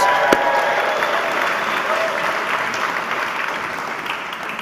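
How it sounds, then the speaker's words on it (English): Audience applause fills a gala hall at the 2021 Claris Health Gala, a steady dense wash of many hands clapping throughout, fairly loud and continuous with no voices breaking through. "I'm thrilled to see faces here clapping"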